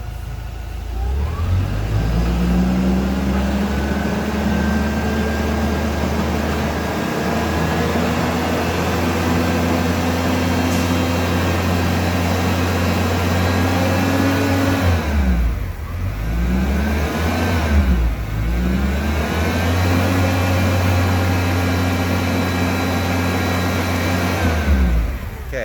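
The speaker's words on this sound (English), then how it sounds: "Let's rev it up for a bit." A car engine with a lean-running fault revs up from idle and holds a steady higher pitch for a long stretch, with two brief dips where the throttle drops and rises again, close and loud with no talk.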